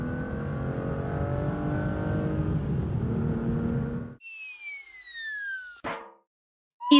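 A cartoon red race car's powerful new engine revs in a loud, rough roar for a few seconds, then gives way to quick whooshing zips and a short burst of cartoon sound effects.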